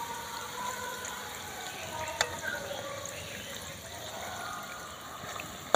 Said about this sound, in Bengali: দেখুন লাল লাল করে ভেজে নিয়েছি, আর ভাজবো না, তেল থেকে তুলে নেব।